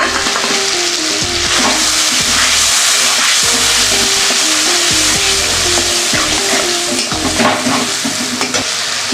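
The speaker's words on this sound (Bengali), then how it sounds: "আঁচটা কমিয়ে এবার মশলাটা দিয়ে দেবো।" Spice paste with a splash of water hits a hot pan over lowered heat for a fish curry with bhola river fish, giving a loud, steady sizzle with repeated stirring scrapes throughout.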